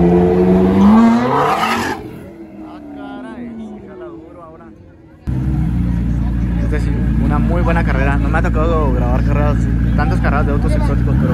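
A McLaren exotic car launches at a drag strip, its engine revving loud and close, then fading off before another steady engine roar takes over, with people talking over the noise.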